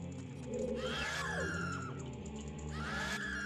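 An enemy screams in the Ocarina of Time Shadow Temple, a shrill wavering cry with sweeping tones over steady game music and effects, loud throughout and rising again near the end.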